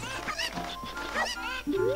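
Cuckoo chickens in Zelda: Ocarina of Time cluck and squawk in quick, overlapping bursts, fairly close and continuous, with a rising tone sweeping up near the end.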